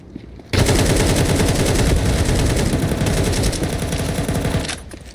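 Dense, continuous pistol gunfire in a Counter-Strike match rattles loudly for nearly five seconds as rapid overlapping shots, starting abruptly after a brief quiet lead-in and cutting off at the end; no talk.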